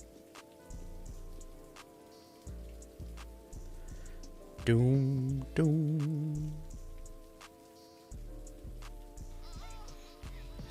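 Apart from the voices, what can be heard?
rain falling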